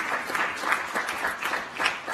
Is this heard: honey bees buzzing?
no